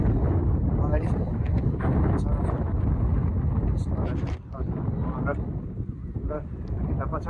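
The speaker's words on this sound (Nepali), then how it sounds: "यहाँ हावा चल्दैछ" Wind buffets the microphone outdoors by a leafy lakeside boating spot during a bike ride, a continuous loud roaring rumble that dips briefly midway before surging back.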